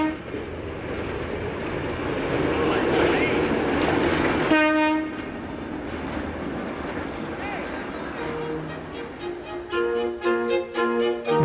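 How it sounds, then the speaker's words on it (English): A huge train passes right outside a restored Pennsylvania railway station building, with broad rumbling rail noise, a loud horn blast midway, and further horn tones and clatter near the end, all close and filling the scene. "there is a huge train right outside the door"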